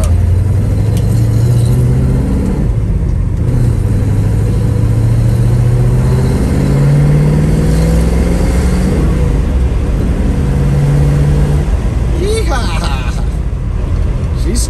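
A 1972 Chevrolet Nova on the road gives a steady mid-pitched engine drone that rises and falls as it shifts through gears, with road noise and occasional voices throughout.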